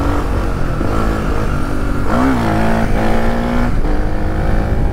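A Suzuki DR 350 trail motorcycle rides on a wheelie, its single-cylinder engine droning loud and close, with the revs climbing sharply and then holding a steady high pitch.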